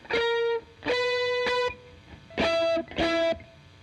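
A distorted electric guitar, a Stratocaster, plays a riff of four sustained chords in two pairs separated by brief pauses, loud and close.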